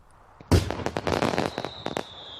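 Gunpowder fireworks going off: one sharp loud blast followed by a rapid crackling string of smaller pops, with a faint whistling tone near the end.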